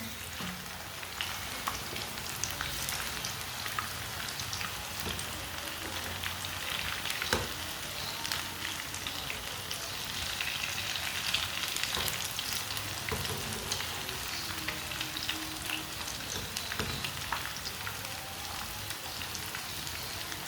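Aloo palak pakoras fry in hot oil, a steady crackling sizzle that runs on for the whole stretch, with occasional soft clinks and splashes as the fritters are turned over, close and fairly loud, with no talking.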